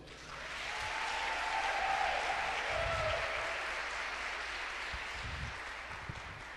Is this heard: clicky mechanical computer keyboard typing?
no